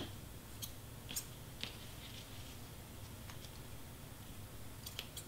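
Scissors snip through string in a few sharp, quiet clicks spread over several seconds, close by, against a soft steady background hiss.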